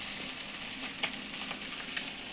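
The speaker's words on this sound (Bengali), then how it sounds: "এই বাটা মাছ ভাজছি" Bata fish frying in hot oil, a fairly loud continuous sizzle and crackle with a few brief sharper pops, no voices.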